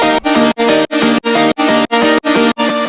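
Bright happy hardcore synthesizer melody in eight evenly spaced chopped chords, loud and rhythmic, each note cutting off sharply before the next.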